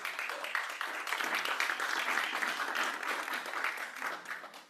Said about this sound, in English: if we could give Jen a round of applause